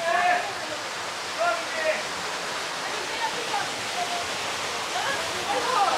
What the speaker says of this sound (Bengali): এই হচ্ছে সেই ওয়াটারফলস,